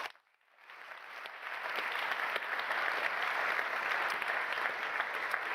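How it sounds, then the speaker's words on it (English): Warm, sustained applause fills the room at a 2021 venture award ceremony as the audience claps for the competing teams, rising after a brief quiet start and holding steady and full with no talking. "we could have a warm applause for all the teams who are in the room,"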